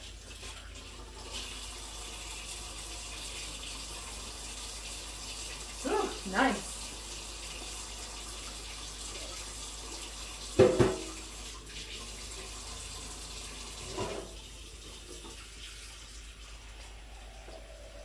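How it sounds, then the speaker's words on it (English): Warm tap water runs steadily into a pot for menudo, a soft continuous stream with a few brief clinks and a short spoken remark. "And I'm going to put a little bit of warm water."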